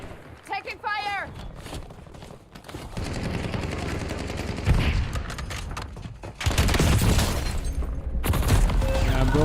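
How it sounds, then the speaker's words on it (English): Gunfire from Call of Duty Warzone, heard as dense bursts of automatic shots mixed with booms, growing louder and more continuous toward the end, under game voice callouts. "Taking fire!"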